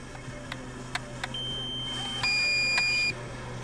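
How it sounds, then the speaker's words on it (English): Short electronic beeps from a drone warning of low battery, a few sharp chirps and then a sustained higher tone, over a quiet outdoor hum with traffic nearby. "Low battery."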